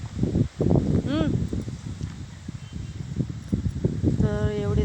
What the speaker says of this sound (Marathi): कसलं वारं सुटलंय बघा. वाऱ्याचा आवाज येतोय का तुम्हाला?